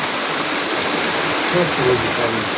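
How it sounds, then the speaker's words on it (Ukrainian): Heavy rain pours down outdoors as a loud, steady, dense hiss that fills the whole clip, with faint voices briefly surfacing beneath it. "Ой, який дощ."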